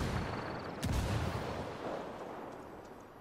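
Frag grenade explosion in the Ghost Recon video game: a sharp crack followed by a rolling low rumble that fades out over a few seconds, fairly quiet and with no talk.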